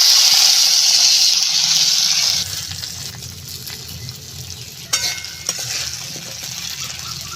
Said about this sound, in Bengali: কেটে রাখা আলুটা আমি কড়াই দিয়ে দিলাম